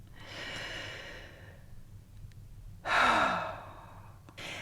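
Slow breathing in a quiet meditation setting: a soft breath drawn in and out, then a louder, sharper inhale-sigh near the middle, followed by a brief breath at the end.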